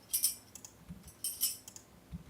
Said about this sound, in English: Here's some metal keys.